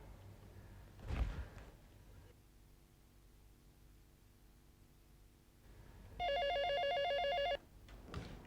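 A telephone ringing in a household scene from a Hindi TV drama: a loud electronic warbling ring bursts in after a quiet stretch, preceded by a thud like a door and followed by another knock.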